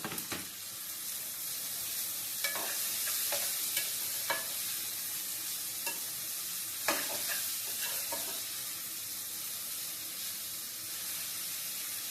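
Onions sizzle in hot oil with browned garlic in a pan, a steady frying hiss broken by several soft scrapes and clacks of a stirring utensil, close and continuous.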